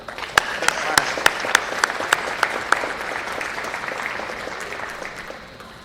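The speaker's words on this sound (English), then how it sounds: "One more round of applause for the" Applause from the audience at an all-academic college meeting: a crowd claps steadily while one person's sharp, regular claps stand out over the wash of the room, then the sound tapers off.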